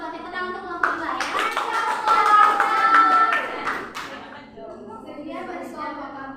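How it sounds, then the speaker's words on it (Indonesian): Classroom applause for a student group breaks out and builds into several seconds of dense clapping from many hands, then thins out as children's voices chatter over it. "Tepuk tangan untuk kelompok 2 ya."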